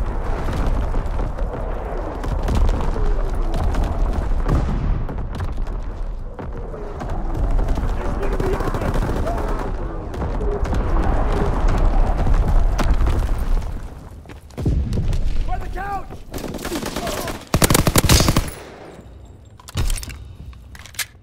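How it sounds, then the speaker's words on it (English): Division artillery firing in Call of Duty: WWII during a team deathmatch, several heavy booms and rumbling blasts rolling through a busy battlefield with scattered gunfire and sharp bursts toward the end. "Firing division artillery."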